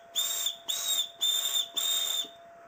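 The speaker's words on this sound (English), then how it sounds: "It's a pretty loud whistle." Four loud, shrill toots from a small whistle on the cord end of a Rat Cutlery Izula neck knife, each blast about half a second long with short gaps between them.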